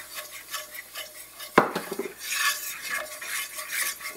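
Rabbit shoulder is stirred in a pan while browning for gravy: soft scraping and sizzling, then a sharp metallic clank of a utensil against the pan midway, followed by continued rustling stirring, no talking.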